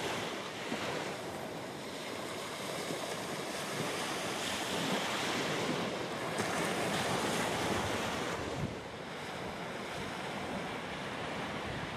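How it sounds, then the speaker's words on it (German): Strong surf pounds the beach toward the southern tip of Hörnum Odde after southwest storms, a loud continuous roar of breaking waves mixed with heavy wind buffeting the microphone. "In Richtung Südspitze frischt die Brandung deutlich auf."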